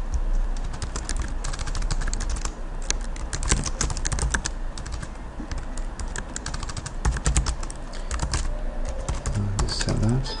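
Commands typed on a computer keyboard for a Juniper simulator: rapid, close clicking keystrokes in uneven bursts throughout, with a voice talking over them.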